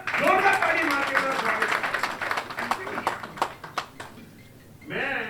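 Clapping from an audience at a public gathering in Goraya welcoming dignitaries, a burst of scattered claps that thins out into sporadic individual hand-claps while someone speaks over a sound system, with a fresh swell of talk at the end.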